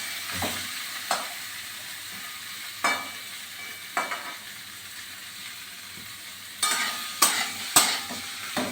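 Spices fry in a pan for homemade amla chyawanprash. A steady close sizzle is broken by repeated sharp scraping strokes of stirring, spaced irregularly and growing busier near the end.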